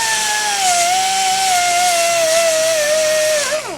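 A small power tool fitted with a sanding pad whines at a high, steady pitch while cleaning a Briggs & Stratton ignition coil, close and loud, dipping slightly under load before winding down at the end.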